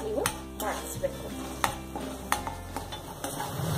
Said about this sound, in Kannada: ಹಸಿಮೆಣಸು ಹಾಗೂ ಕರಿಬೇವನ್ನ ಹಾಕೋಣ. ಹಸಿಮೆಣಸು ಒಂದು ಸ್ವಲ್ಪ ಬಾಡೋವರೆಗೆ 1-2 ಸೆಕೆಂಡ್ ನೀವು ಬಾಡಿಸ್ಬೇಕು.